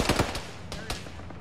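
Gunfire in the video game Arma: a quick burst of several sharp shots near the start, then two or three more loud cracks spaced apart, fading into a low rumble.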